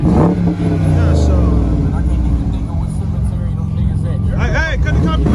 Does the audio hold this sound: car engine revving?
yes